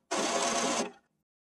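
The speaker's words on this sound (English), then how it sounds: "The printer will clean the pick rollers for you." An HP Envy 100 D410a inkjet printer cleans its paper pick rollers with one short, fairly quiet mechanical whir that stops abruptly after under a second.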